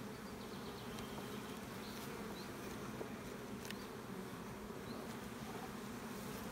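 Honeybees hum steadily at an open hive during a spring inspection of brood frames, a faint, dense, even buzz with a few brief clicks and no talk.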